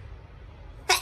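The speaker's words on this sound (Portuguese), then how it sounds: "O espirro veio." One sharp sneeze bursts out abruptly at the very end after near silence, close and loud, from someone who has the flu.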